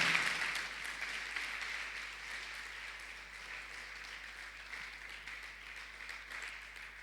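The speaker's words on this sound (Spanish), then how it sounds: "Dale un aplauso al Señor, aleluya" A church congregation applauds during a service, steady massed clapping that starts strongest and gradually settles into a softer, continuous patter.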